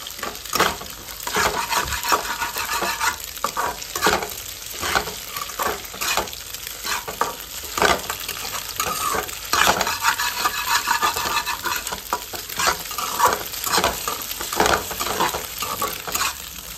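Egg fried rice is stir-fried in a pan, a continuous sizzle broken by repeated scraping and clinking of a spatula against the metal, busy and close with an irregular rhythm.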